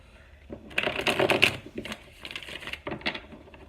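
Tarot cards are shuffled loudly up close, a rapid riffling flutter in two bursts separated by a short pause, with faint background noise.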